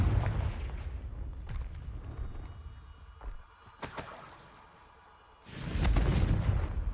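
Confringo explosive spell cast in a Harry Potter video game, several sharp blasts and whooshes with a quiet lull, then a loud rumbling explosion near the end.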